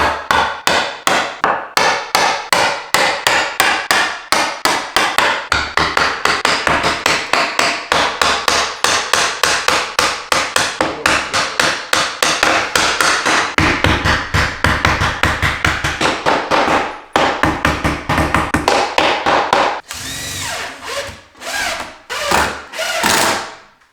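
Rapid, steady hammer blows strike wood during a kitchen window installation, dozens of sharp close taps in quick rhythm for most of the stretch, then a few slower, duller knocks near the end.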